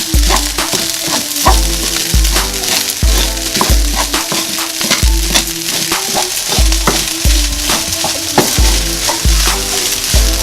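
Rice and green onion stir-fried in a hot pan, loud steady sizzling broken by regular rhythmic scraping and tossing strokes of a spatula, close up with no talk.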